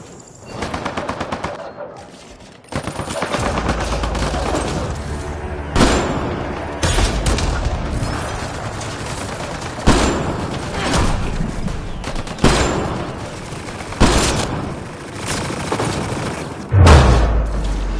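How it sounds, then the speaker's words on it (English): Turret machine guns fire at Merryweather's men in a video game, with long loud bursts of rapid gunfire broken by brief pauses and heavy booms and thuds, continuous and close for the whole stretch. "Turn those turrets on Merryweather's men."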